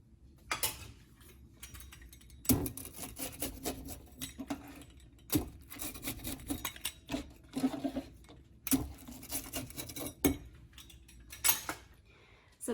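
Crisp crunches from a low-carb spinach and mushroom quesadilla with a tortilla-like shell, several sharp bites or breaks spaced a few seconds apart, close and fairly quiet against a soft background.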